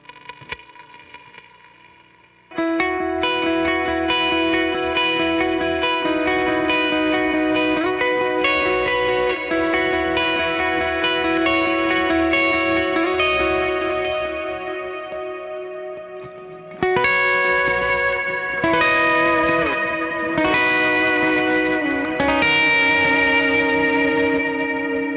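A guitar run through the Dotted Cloud preset on a Mercury X pedal: sustained chords bloom into a shimmering, diffuse reverb wash with echoing repeats, a quiet start, then a new chord change midway, no talking.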